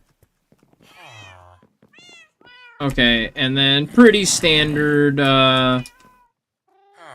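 Cats meow loudly and repeatedly on a cat-powered farm in a video game, several drawn-out calls overlapping in a dense burst near the middle, with someone talking before and around them.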